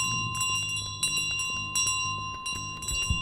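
A bell in Untitled Goose Game rings in quick bright clangs, several strikes in an uneven rhythm with ringing tones lingering between them, close and clear, with no talk over it.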